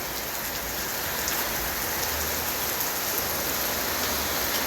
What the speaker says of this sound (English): it's raining guys, you can see.